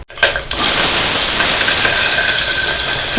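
Whole cinnamon and spices dropped into hot ghee in a pan burst into a loud, steady sizzle and hiss that starts abruptly and holds close and continuous to the end.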